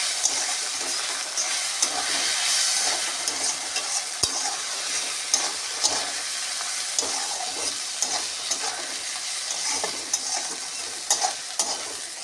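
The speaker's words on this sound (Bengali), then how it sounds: "ভাজা সয়াবিনগুলো দিয়ে এটাকে কষিয়ে নিতে হবে" Taro greens and fried soybean chunks are stir-fried in a pan in a home kitchen, with a constant sizzling hiss broken by repeated scraping and clicking stirring strokes.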